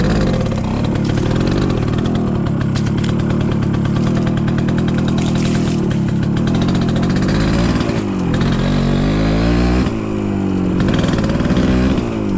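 A motorcycle engine runs loudly and steadily close by, a continuous rough mid-pitched drone with slight shifts in tone and no talking.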